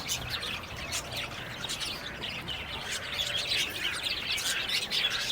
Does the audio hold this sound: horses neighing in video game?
no